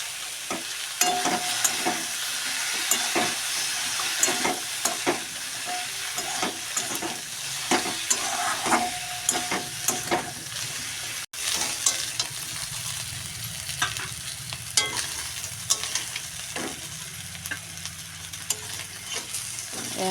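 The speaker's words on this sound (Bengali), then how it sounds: "এটা এখন ভাজা চলছে" Eggplant slices frying in a pan with a vegetable curry cooking nearby, a constant oily sizzle punctuated by repeated sharp scrapes and clinks of a spatula stirring and lifting pieces.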